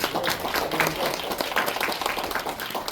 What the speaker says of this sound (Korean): 시장님도 다시 한번 큰 박수 부탁드리겠습니다.